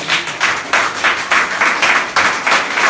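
A church congregation clapping in uneven, repeated bursts of applause, loud and close, filling the room without any clear voices.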